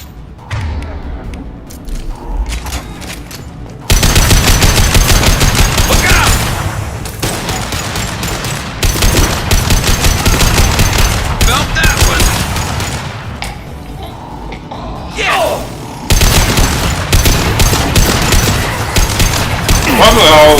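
Gunfire in Mass Effect Legendary Edition: dense fusillades of shots and thudding impacts, loud and continuous from about four seconds on, with brief lulls and game effects under the firing.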